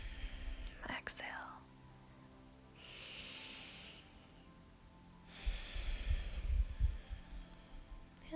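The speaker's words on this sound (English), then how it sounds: "Deep inhale, exhale." Slow breathing during yoga cat-cow poses, soft drawn-out inhales and exhales at moderate distance, separated by quiet gaps and followed by a louder, breathier puff.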